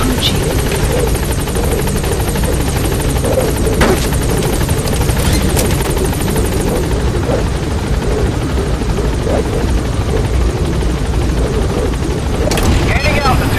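A support helicopter in Metal Gear Solid V: The Phantom Pain arrives at a landing zone with a loud, close, throbbing rotor roar throughout, while radio voices talk over it and sharp game effects burst in now and then.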